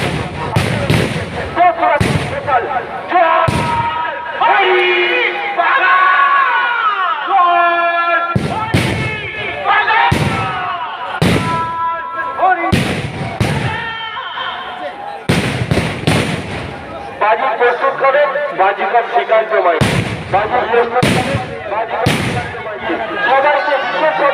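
Homemade fireworks going off in an orchard at a village outdoor display: repeated sharp bangs and bursts with crackling, spread unevenly over the clip, while people talk and shout nearby.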